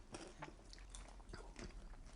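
Whole edible insects are bitten and crunched close to the mouth, a few crisp crackling bites in quiet surroundings.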